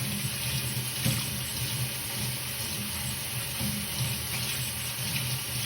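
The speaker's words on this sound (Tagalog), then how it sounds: "Badlawan niyo muna ang panghugas." Running tap water splashes steadily into a sink, a continuous hiss with occasional clinks of dishwashing utensils being rinsed.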